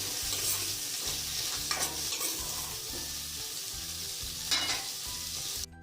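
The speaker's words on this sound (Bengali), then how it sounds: "প্রথমে আমি গাজরগুলো ভেজে নিচ্ছি।" Carrots frying in a pan over a medium gas flame, with a continuous soft sizzle and repeated scraping stirs at a steady rhythm, close and fairly quiet, no talking.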